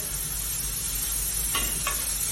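Bertolino Foods shaved steak sizzles and browns in a pan, a steady close frying hiss running throughout with a couple of brief sharper crackles near the end.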